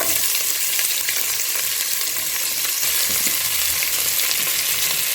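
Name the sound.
onions frying for Nombu Kanji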